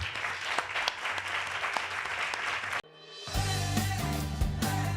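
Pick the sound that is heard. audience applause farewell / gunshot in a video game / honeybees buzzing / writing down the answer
audience applause farewell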